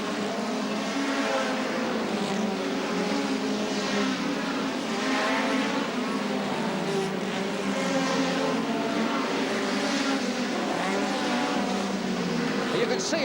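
Hot rod race cars at a 1980 World Final meeting, the leading two running close, their engines droning steadily throughout with a busy crowd-and-track wash, continuous and fairly loud, with commentary-like voices faintly mixed in.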